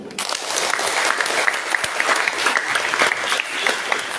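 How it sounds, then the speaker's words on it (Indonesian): Applause from the audience at a national seminar, dense sustained clapping with scattered sharper claps standing out, loud and continuous throughout with no speech over it. "Boleh tepuk tangan dulu?"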